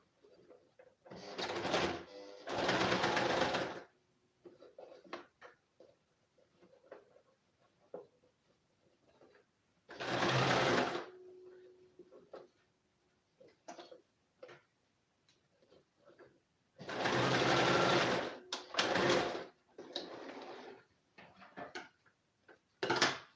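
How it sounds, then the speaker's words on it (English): A sewing machine stitches fabric for a garment in several bursts of rapid mechanical whirring, close and fairly loud, with quieter handling clicks and pauses between the runs. "It's sewing well now, but I don't know if it's fully arranged."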